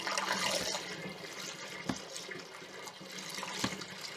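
Wine concentrate and water poured into a fermenter bucket for a Chile Merlot kit, a soft continuous splashing pour heard close and fairly quiet, with a couple of brief knocks.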